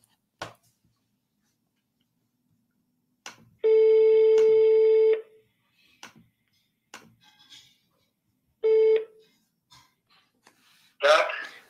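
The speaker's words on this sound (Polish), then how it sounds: "Spróbujemy się z nim połączyć może telefonicznie." A phone call placed to a Polish number: two long, steady ringback tones separated by a pause, with scattered clicks and taps around them and no talking.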